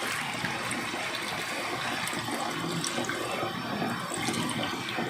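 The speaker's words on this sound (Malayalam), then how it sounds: "2-ാം പാല് ഇതിലേക്ക് ഒഴിച്ചു കൊടുക്കാം." Second coconut milk is poured into a pot of wheat payasam, giving a steady, even liquid pour and splash that runs throughout at a low level, with no talk.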